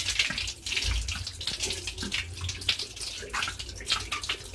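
Tap water running steadily while fruits are washed under it, a close, continuous rushing splash with no talking.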